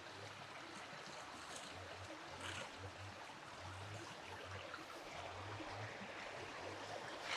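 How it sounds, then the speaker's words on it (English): Water from a rural stream beside overgrown land in Portugal flows and trickles at a distance, a soft, steady rushing that runs without a break, with no one speaking. "I think it's possible listen the beautiful sound of the water."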